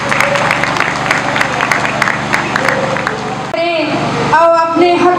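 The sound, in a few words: audience applause welcoming a speaker to the stage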